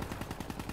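A sniper rifle shot in Black Ops III, a brief burst of gunfire with a few rapid pulses, fairly faint and without any talking.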